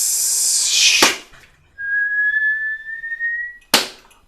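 An audience whistles in imitation of a firework rocket: one long, steady rising whistle, framed by a sharp bang-like burst before and after, with broadband crowd noise at the start.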